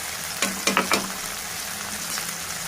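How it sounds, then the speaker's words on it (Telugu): A pan of drumstick, green peas and tomato curry frying with a soft sizzle, with a short burst of three or four scraping stirs near the start, then a steady low fry, close with no voices. "ఇప్పుడు కలుపుకోవాలి ఇలా బాగా కలుపుకొని"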